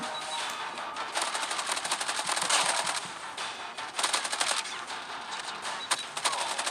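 Rapid gunfire from an AS VAL rifle in a shooting video game, dense bursts of automatic shots with brief pauses between volleys, loud and close.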